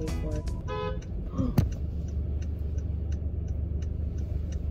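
A car horn honks in a few short toots at the start, near and fairly loud, over the steady hum of a car interior in traffic on a boulevard, then ticking continues faintly.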